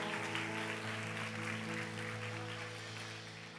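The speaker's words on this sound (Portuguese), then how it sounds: "Será que você pode aplaudir a Jesus pela vida deles?" A church congregation applauds during a worship service: steady, dense clapping from a crowd that holds for several seconds at moderate level, with a sustained musical drone underneath and no talking.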